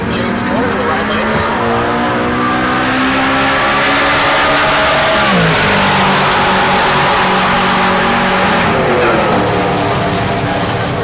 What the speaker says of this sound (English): Naturally aspirated big block in that Camaro